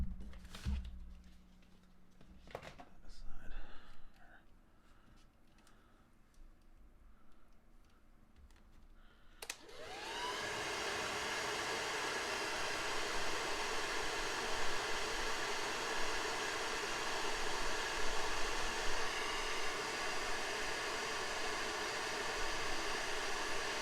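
A heat gun blows hot air onto a Transformers Siege War for Cybertron Shockwave figure, a steady loud broadband rush that switches on after a few seconds of quiet handling noises and holds without a break.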